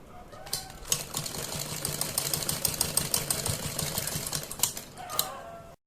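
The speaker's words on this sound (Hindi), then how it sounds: "ऐसे पूरे कॉलर पर ही हमने सिलाई लगा देंगे इस तरह से" A sewing machine stitches along a shirt collar with a steady, rapid mechanical whir and needle chatter, close and continuous for several seconds before stopping, with a few sharp clicks at the start and end.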